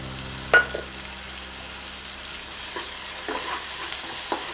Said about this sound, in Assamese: এইখিনি কেঁচা কেঁচা ভাৱটো যোৱালৈকে ধুনীয়াকৈ ফ্ৰাই কৰি ল'ম